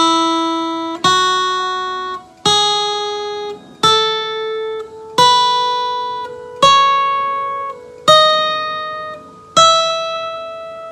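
Eight plucked guitar notes ring out one after another at a steady pace, each stepping higher in pitch and sustaining until the next is struck.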